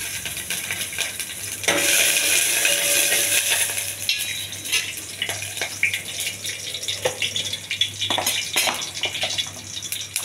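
Garlic frying in a little oil in a hot pan on a home stove, starting as a sudden loud, steady sizzle about two seconds in and crackling on without talk.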